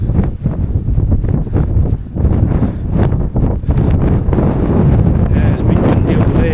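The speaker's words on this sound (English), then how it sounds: "it's been windy all day" Strong wind buffets and roars across the microphone in heavy, uneven gusts on the Moray Coastal Trail, loud and close, with muffled rumbling throughout.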